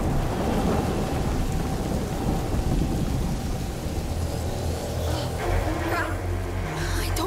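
Thunder rumbles over steady rain during a lightning storm in the video game A Plague Tale: Innocence, with the deep rolling booms building near the end over the constant hiss of rainfall.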